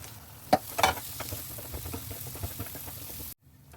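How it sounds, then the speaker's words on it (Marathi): Finely chopped fenugreek leaves hit hot spiced oil and sauté with a steady close sizzle, a couple of sharp clinks from stirring near the start, then the sound cuts off abruptly. "मसाल्याला तेल सुटले की बारीक चिरलेली मेथी त्याच्यात परतायची।"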